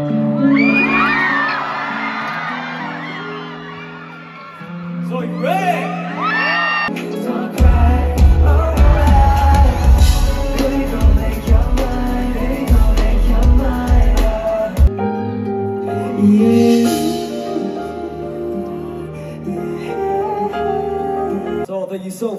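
A concert crowd at a show sings along loudly with the music, many voices blending into a swelling chorus over the band, with whoops and cheers rising between lines.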